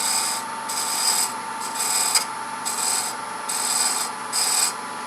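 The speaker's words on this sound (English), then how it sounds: "the point tool to just kind of, again, chamfer that edge just a little bit" A point tool chamfers the edge of a turning wooden acorn box on a lathe, giving a steady high hum overlaid by several short scraping rubs in quick, uneven succession.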